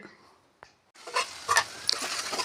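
Garlic paste and chopped tomatoes stirred in a hot pan for egg biryani, starting with a brief knock, then a burst of close sizzling and scraping that swells and dips in uneven strokes.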